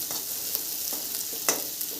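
Garlic fries lightly in a pan with a steady sizzle, while a utensil scrapes and stirs in a few sharp strokes.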